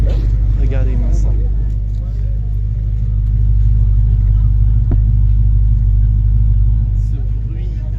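An Alfa Romeo Montréal idles close by at a car gathering, its engine a deep, loud, steady rumble running throughout while voices murmur over it.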